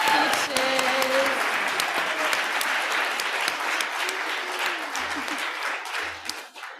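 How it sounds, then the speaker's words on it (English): An audience applauds after senior speeches, a dense steady wash of clapping that holds loud for about six seconds before thinning out, with scattered voices and cheers mixed in. "Let's have another round of applause for those amazing speeches."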